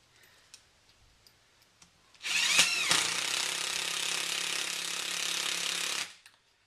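An impact driver sinks a screw into wood in one continuous burst of rapid hammering rattle lasting about four seconds, loud and close, preceded by a few quiet clicks and handling taps.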